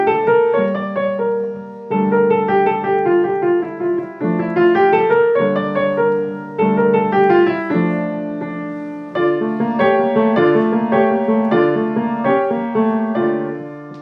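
Solo piano plays a short minor-key warm-up built on the harmonic minor scale, a steady flowing melody over bass notes in several phrases, close and clear with no talking.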